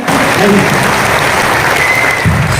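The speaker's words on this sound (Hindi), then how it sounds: "आप अपने लिए ताली बजा दो कि आपने कामयाबी की तरफ अपना कदम बढ़ा दिया" A roomful of people clapping together at a motivational meeting, the steady, loud applause filling the space from start to finish, with faint voices murmuring underneath.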